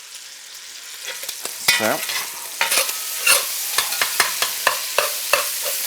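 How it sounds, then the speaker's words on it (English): Sausage meat fries in a pot with a steady sizzle while a utensil stirs and scrapes it in a regular, repeated rhythm, close and clear, with a brief spoken word at the start. "frying till all the meat is brown"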